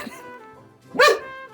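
A single sharp dog bark rings out after a moment of quieter sound, fairly close and distinct.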